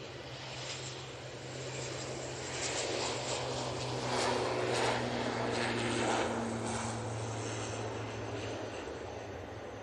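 An ATR turboprop in Etihad livery at Manchester Airport gives a steady propeller drone with low tonal hum, swelling gradually to a louder peak mid-way before easing slightly, heard alone without talk.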